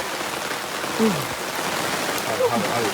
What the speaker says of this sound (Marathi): जाडा पाऊस आहे.